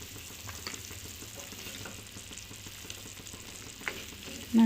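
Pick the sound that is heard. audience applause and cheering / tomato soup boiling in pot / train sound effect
tomato soup boiling in pot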